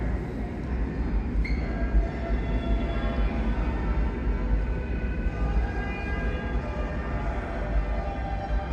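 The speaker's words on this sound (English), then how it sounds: "Here comes the Broad Street train." A New York subway train bound for Broad Street rolls into the station with a loud, steady rumble of wheels and carriages, faint squeals riding over the continuous roar.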